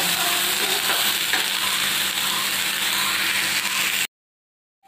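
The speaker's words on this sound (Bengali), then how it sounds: "আমি বেশি ভাজবো না, একটু হালকা হালকা ভাজা হয়েছে।" Ingredients for sabudana khichuri fry lightly in a pan with a steady, close sizzle and occasional stirring scrapes, then cut off abruptly into silence near the end.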